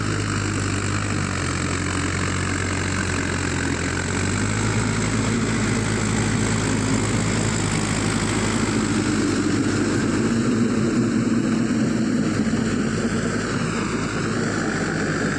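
Tractor running a Bengal rotavator through field soil in low gear 3, a steady droning engine with churning, rumbling rotor noise that holds evenly throughout, close by and without speech.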